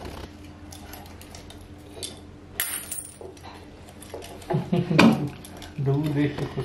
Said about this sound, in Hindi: सिक्के गिन रहे हो, पर नोट तो गिन लो।